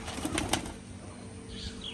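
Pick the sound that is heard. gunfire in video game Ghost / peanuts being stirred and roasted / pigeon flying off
pigeon flying off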